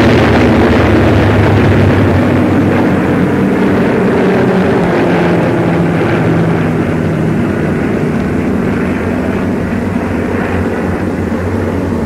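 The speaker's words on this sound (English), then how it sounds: "American transport planes loaded with supplies follow us as we advance." American transport planes loaded with supplies fly over an advancing convoy heading for the Tunisian front in 1942 North Africa. Their loud, continuous engine drone is mixed with vehicle rumble and holds steady throughout without any speech.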